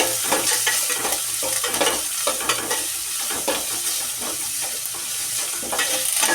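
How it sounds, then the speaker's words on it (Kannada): Onions, garlic, mustard seeds and a sprig of curry leaves fry in a pan for an aloo tomato gojju, giving a steady close sizzle broken by repeated scraping stirs of a spoon against the pan, with no talking. "1 ಕಡ್ಡಿ ಕರಿಬೇವು ಸೊಪ್ಪು ಹಾಕಿ ಇವಾಗ ನೀಟಾಗಿ ಇದನ್ನು ಫ್ರೈ ಮಾಡ್ಕೊಳ್ಳೋಣ."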